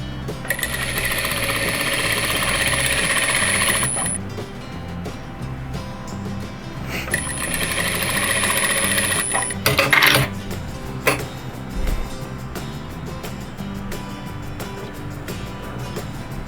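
A sewing machine runs in two sustained stitching passes over strips of quilt fabric, a steady buzzing whir that stops between runs, followed by a few clatters and handling noises.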